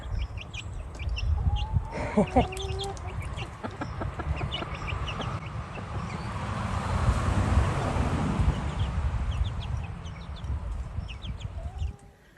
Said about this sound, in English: I've got some lovely little bantams at the moment.